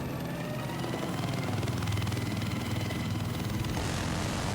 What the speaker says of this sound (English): Boss transport chopper moving in.